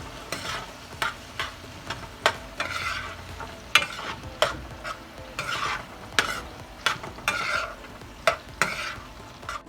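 Scallions being stirred into shrimp frying in a skillet, a steady close sizzle broken by repeated sharp scrapes and clacks of the utensil against the pan, with no talking.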